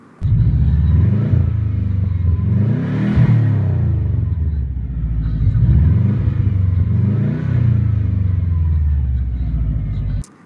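A 2016 Subaru Legacy GT engine revs hard at wide open throttle, two loud, close rising-and-falling sweeps of deep rumbling exhaust with no talking.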